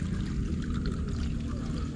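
Strong running water flows steadily while fish are being cleaned beside it, a close, constant rushing pour with no talk over it.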